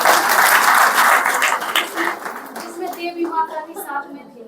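A group claps hands together in honor of the eight invitations at a ceremony for those who brought service invitations, loud dense applause at first that tapers off within two seconds as talking voices take over.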